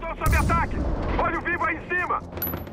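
Rapid gunfire bursts in Far Cry 4 during an airport attack mission, under excited talking, a few sharp shots cutting through fairly quiet, with a brief high electronic tone near the end.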